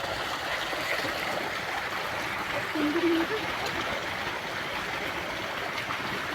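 A flowing river gives a steady, fairly faint rushing and trickling wash outdoors, continuous throughout, while a person talks over it.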